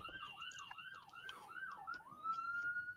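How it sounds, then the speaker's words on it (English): An ambulance siren wails in a fast up-and-down yelp, cycling several times and then settling into a steadier tone, fairly faint and distant against a quiet room. "The ambulance."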